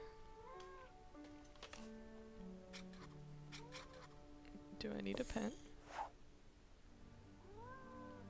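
A cat in the Nancy Drew game Mystery of the Seven Keys gives several faint, sad, drawn-out meows scattered through the clip under game music, with a person speaking briefly.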